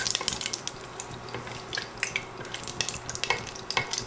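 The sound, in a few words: whole spices sizzling in hot ghee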